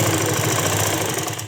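A sewing machine runs a steady, fast mechanical stitching rhythm while sewing a salwar, close and continuous with no voices.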